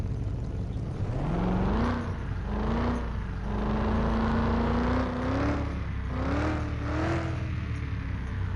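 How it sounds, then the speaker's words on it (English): A car engine with its exhaust fitted revs repeatedly in Car Mechanic Simulator 21, rising and falling in several throaty pulls over a steady idle rumble, loud and close with no talk. "This is with the exhaust."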